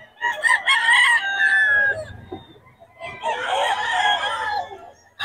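Two long rooster crows, one after another with a short pause between, loud and close, the second slightly rougher and fuller.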